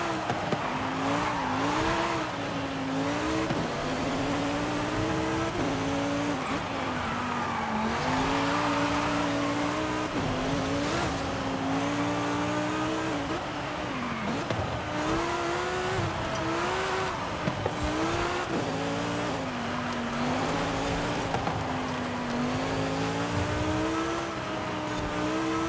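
A 1,200-horsepower V10-swapped Ferrari 458 Italia races in Forza Horizon 5. The engine wails loudly and without a break, its pitch climbing and falling through gear changes, with tire squeal mixed in and no talk.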